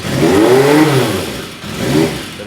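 An old motorcycle that sat unused for over five years, with trouble at the carburetors, revs high and steady right after starting, its loud, close engine note rising and falling in two surges with no talking.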